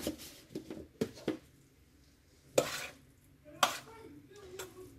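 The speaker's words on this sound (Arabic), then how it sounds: "نحرك مزيان" A wheat, tuna and cheese salad is stirred in a bowl, a spoon giving several close clinks and scrapes in quick succession, then a few separated scoops with soft squishing between them.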